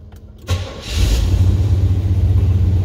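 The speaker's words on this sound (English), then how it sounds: "I'm gonna start the vehicle up." A 1980 Pontiac Firebird Trans Am Turbo pace car engine cranks briefly after a short quiet pause, catches and settles into a loud, steady, rumbling idle heard close up, with no talking.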